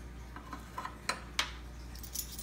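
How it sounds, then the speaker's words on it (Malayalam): A whisk beats cake batter with sugar and vanilla essence in a bowl, making faint, irregular metallic clinks and taps against the rim over a low hum. "നന്നായിട്ട് ഒന്നും കൂടെ ഒന്ന് അടിച്ചെടുക്കാം"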